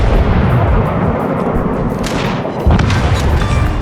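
Naval guns boom in the World of Warships game, with heavy, loud artillery blasts rumbling over a constant roar of sea and engine noise, and a fresh thud near the end.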